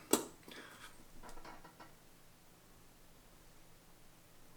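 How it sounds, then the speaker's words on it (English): A can opener sharply punctures a 1961 tin of Dutch emergency biscuits, followed by a brief, faint hiss of escaping air, then quiet background noise. "Ooh, a little hiss there."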